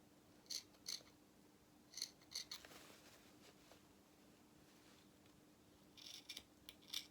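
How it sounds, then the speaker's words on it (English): Scissors make small snips in a fabric lining for doll clothes: a quiet, close series of crisp cuts, about ten in all, in short clusters separated by pauses, over a faint background hiss. "you're just going to do some little snips in your lining only all the way around"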